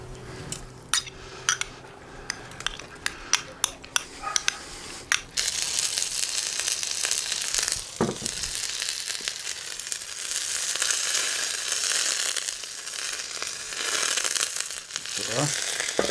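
Sharp clinks and clatters of utensils against a wok pan on a rocket stove come first, then butter hits the hot metal and a dense, steady sizzle fills the rest, with occasional scrapes over the frying.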